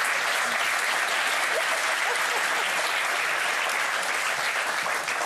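Studio audience applause on a French television talk show, dense and steady, filling the whole stretch at close range without a break.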